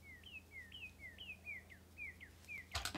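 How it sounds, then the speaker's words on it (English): Small bird chirping outdoors, a faint but clear run of about seven rising-falling tweets in a steady rhythm, ending with a brief clatter nearby. "You can hear the birds."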